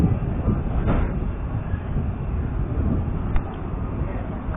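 A train pulls out of Andrychów station in Poland, a broad steady rumble of wheels and machinery with a couple of faint metallic clanks, heard close and continuous without talk.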